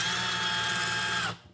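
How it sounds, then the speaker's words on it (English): A power drill spins a cheap pencil sharpener with a pencil in it, giving a loud, steady high whirring grind close by that stops abruptly near the end. "lock it inside of a drill, just like this"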